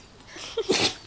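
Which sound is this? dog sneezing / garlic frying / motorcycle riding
dog sneezing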